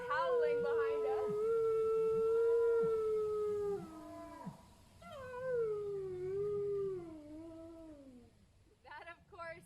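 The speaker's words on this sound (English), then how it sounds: "He's howling behind us." A dog howls long and wavering, close by at a live outdoor event, with sustained rising and falling tones in several drawn-out howls and a short yip near the end.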